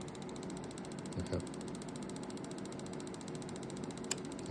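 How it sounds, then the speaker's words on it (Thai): A steady mechanical whir of the air conditioner and cooling fan running in a 1994 Jeep XJ, with a faint rhythmic ticking throughout and a brief spoken word near the start. "ก็จะได้ยินเสียงแอร์กับพัดลมทำงาน"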